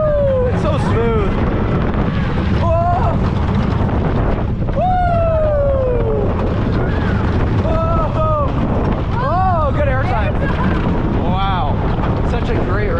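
Loud, constant rush of wind and rattling roller-coaster track noise on a 75-foot-tall, 2,100-foot-long coaster at Seabreeze amusement park in Rochester, New York, with riders shouting and whooping throughout the run.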